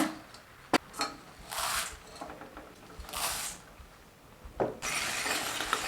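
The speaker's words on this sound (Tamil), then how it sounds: "மூணு கப் பொரிய போட்டு இதில் கலந்து விட்டுக்கலாங்க" Puffed rice, three cups, being stirred into hot jaggery syrup over a low flame for sweet balls, giving soft rustling, crunchy scraping bursts with a few sharp clinks of the spoon against the pan, close by and fairly quiet.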